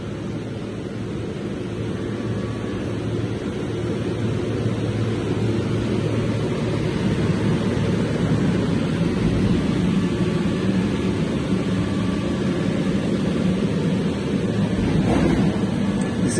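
An automatic steel coil slitting line (0.3–3 mm by 1650 mm) runs on its first test after installation, a steady loud mechanical hum and rushing drone, continuous for the whole stretch with no talking.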